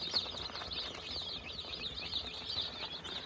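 Poultry chicks shuffle and flap while being fed, giving a faint busy rustle of wings and small movements with high cheeping scattered throughout at close range, no talking.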